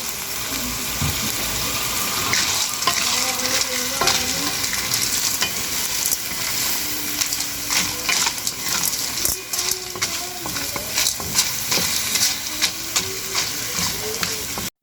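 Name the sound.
stirring snails frying in a pan with seasoning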